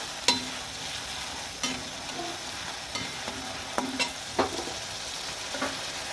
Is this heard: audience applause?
no